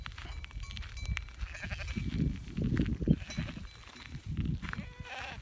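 Near a pen on a small farm, a Dorper ewe with a newborn lamb gives several close, wavering bleats in two bursts, amid shuffling and handling noises.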